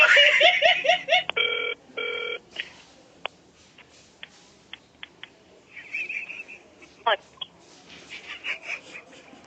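A telephone ring pattern bursts out near the start amid other sound effects in a Red FM radio prank call segment, followed by short clicks and beeps, with voices speaking over parts of it.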